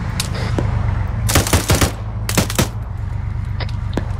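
Bursts of rifle fire crack out during a military pre-deployment exercise, a sharp volley around the middle followed by a few scattered shots, heard against steady background rumble with no talk.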